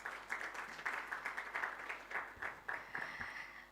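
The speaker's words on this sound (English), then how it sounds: "One more round of applause, please." Audience applause at a high-level policy dialogue on gender-transformative agri-food systems, a steady wash of many hands clapping with rhythmic swells, fairly close and continuous, with no speech over it.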